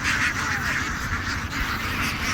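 Ducks chatter and quack in a steady, continuous flock noise throughout at a village in the Khaliajuri haor wetlands, fairly close, with no talking.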